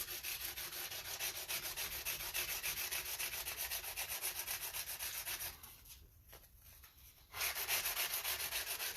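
Fine-grit sandpaper is rubbed along the bevelled fret edge of a bass guitar in fast, close, rhythmic strokes. The sanding pauses briefly near the end and then resumes, with no talk.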